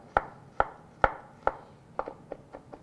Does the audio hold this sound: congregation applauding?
no